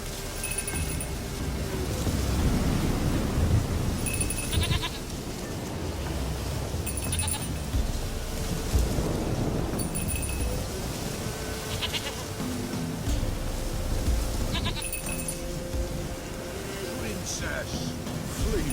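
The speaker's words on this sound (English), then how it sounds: "Goat of mine, dearest, sweetest goat." A goat bleating in the video game The Witcher 3: Wild Hunt, repeated nasal bleats at irregular intervals over a low outdoor ambience with waves, with someone speaking at times.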